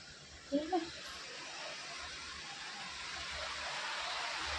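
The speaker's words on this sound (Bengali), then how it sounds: "দেখো কীরকম বৃষ্টি হচ্ছে," Heavy rain pours down outside a house in Dum Dum, a dense, steady hiss that swells slightly, with a brief voice at the start.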